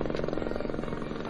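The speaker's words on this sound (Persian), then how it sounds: "صدای هلیکوپتره." A helicopter flies very close by, its rotor throbbing in a loud, steady, rapid pulse with a heavy low rumble that lasts the whole short moment.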